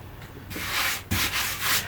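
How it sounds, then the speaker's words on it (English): A spindle sander smooths the cutout in a solid pine 1x12 guitar speaker cabinet, giving a steady, close, rasping rub that swells and dips as the wood is pressed against the spinning drum, with no talk. "Get it close and then finish off on the spindle sander."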